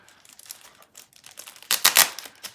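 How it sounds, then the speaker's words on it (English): Packaging around a Monstera Siltepecana plant crinkles, with faint rustling at first and then a loud, close burst of crumpling plastic or paper lasting under a second. "Let's unwrap this Siltepecana."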